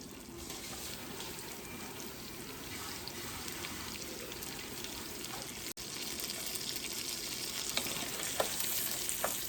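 Rice frying in a pan with a whole onion and a serrano chile, a steady close sizzle with faint stirring scrapes running throughout.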